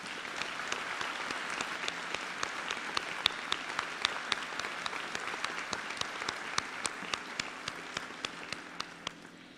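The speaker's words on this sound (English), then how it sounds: "I would like for everyone to give these award winners thus far a round of applause." Audience at a 2021 senior awards assembly in a school hall applauds award winners, with steady crowd clapping plus distinct sharp individual claps in a regular rhythm, fairly faint and gradually fading at the end.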